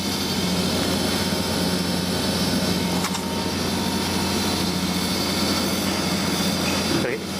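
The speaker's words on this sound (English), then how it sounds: "so I'm going to get this pump to prime" Water pump running while priming through a suction hose for a homemade fan mister, a loud, continuous motor drone with a steady hum, close by and unbroken throughout.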